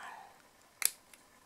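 Scissors cut paper for a pop-up card, giving one close, crisp snip made of two quick clicks followed by a fainter second snip, in an otherwise quiet room.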